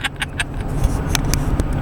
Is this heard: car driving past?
yes